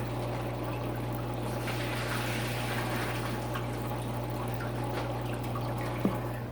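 Water pours and trickles through a fish net as a cichlid is tipped from a container into an aquarium, a steady close splashing stream over a low hum, ending with a brief bump.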